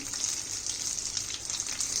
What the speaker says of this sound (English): You need to begin frying these on low flame